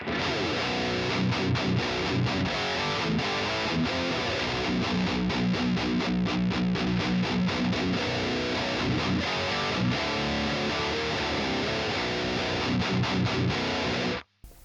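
An electric guitar played through a Deadweald Audio Engineering DAE Duality Drive overdrive pedal on its Tubescreamer channel, thick distorted chords and chugging riffs ringing continuously before stopping abruptly at the end.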